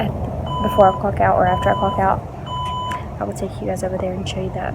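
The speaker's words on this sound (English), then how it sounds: "That's my phone beeping." A phone in a hospital neonatal intensive care unit gives a few short repeated electronic beeps, moderately loud, under a person talking close by.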